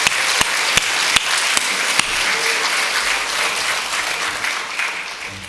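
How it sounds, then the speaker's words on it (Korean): Church congregation applauding during a Sunday worship service, a steady wash of clapping from a large crowd with a few sharper, closer claps standing out early on, continuing the full length before easing slightly at the end. "박수, 감사, 박수."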